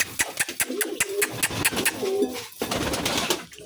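Pigeons coo softly and repeatedly while being fed grain, with rhythmic throaty calls close by, punctuated by small clicks and pecking sounds, and no talk.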